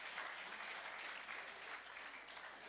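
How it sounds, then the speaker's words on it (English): A school workshop audience applauds to welcome a guest speaker, Mrs. Francesca Okonkwo, to the microphone: dense, steady clapping from many hands that fills the whole stretch at an even level. "Keep clapping till she comes to take the microphone from me."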